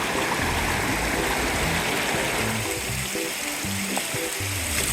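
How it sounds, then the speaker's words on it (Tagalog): A mountain stream on Mt. Pinatubo flows in a steady, close rush of splashing water that fills the whole clip without pause. "Kung mapapakinggan nyo, sobrang sarap sa tenga ng tunog ng tubig"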